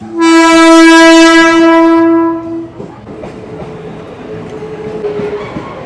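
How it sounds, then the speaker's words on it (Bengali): Saraighat Express at Howrah station sounds a long, loud, steady horn for over two seconds, then a rumbling, clattering train noise with faint squeals carries on beneath it. "সরাইঘাট এক্সপ্রেস, যেটা বিকেল 4:05 হাওড়া থেকে ছাড়বে"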